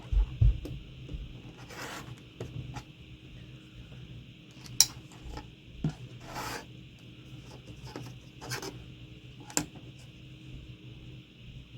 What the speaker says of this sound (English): I'm just going to grab my rotary cutter and a little ruler here